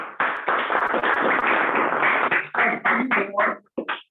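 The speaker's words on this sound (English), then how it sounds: "A big clap for him." Applause at a Toastmasters meeting rises right away into a dense, steady wash of clapping from the audience, then breaks into separate claps and trails off over the last second.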